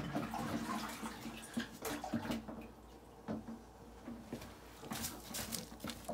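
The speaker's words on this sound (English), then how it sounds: "Get out the big old watering can again." A big watering can pours onto greenhouse plants, giving quiet uneven splashing and patter in bursts with short pauses between them, faint and close.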